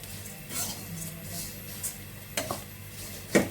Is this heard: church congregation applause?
no